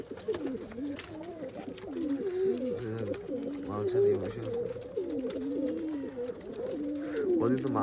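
A pair of pigeons keep up a steady, throaty cooing close at hand, the rolling calls repeating through the whole stretch while a voice speaks intermittently underneath.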